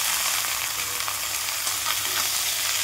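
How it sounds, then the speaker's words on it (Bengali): Mixed chopped vegetables hit a hot kadai and crackle into a loud, steady sizzle that hisses continuously and close up, with no talking. "আনাজ সব রকম দেওয়া আছে, আর কড়াইতে ঢালছি"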